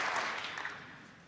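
Applause from a snooker crowd at the Welsh Open semi-final, a steady wash of clapping that starts full and fades slightly over a brief moment, moderately loud.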